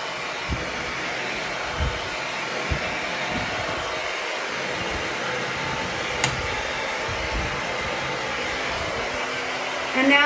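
A hair dryer blows steadily at home while hand-tied hair extensions are dried, a constant close rushing whoosh with occasional faint handling bumps.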